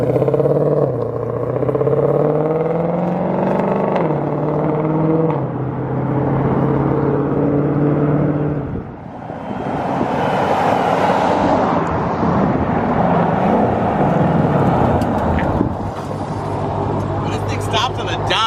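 A 2020 Shelby GT500 drives hard, its loud engine rising and shifting through gears and then swelling with rushing wind, while people talk over the noise.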